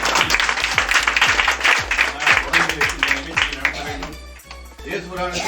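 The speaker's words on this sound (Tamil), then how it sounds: "இந்த நேரத்தில் ஒரு மிகப்பெரிய ஒரு பாராட்டு கொடுங்க" Applause from the audience at a village Christmas celebration in Kothavadi, a steady wash of many hands clapping, mid-distance, with a speaker's amplified voice talking over it.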